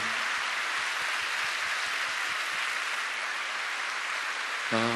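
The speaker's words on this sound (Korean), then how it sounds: "수고한 모든 분들께 우리 감사의 박수를 드리겠습니다" Applause from a church prayer-meeting audience thanking the internet, video, sound and lighting teams: a continuous, even wash of many hands clapping for several seconds, with a voice starting at the very end.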